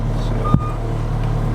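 Reversing beeps from a farm skid steer moving, a steady engine drone with a short sharp clank, close and loud.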